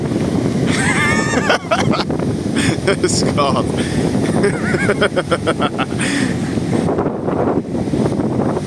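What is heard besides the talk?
strong wind at the beach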